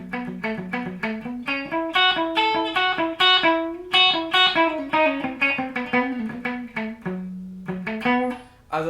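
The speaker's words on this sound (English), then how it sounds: "because then you'll mute your strings and it will sound something like this" Electric or acoustic guitar strings strummed with the palm resting too close to the neck, giving dull, choked, clipped notes in a steady rhythm of repeated chords, close and moderately loud with no talking.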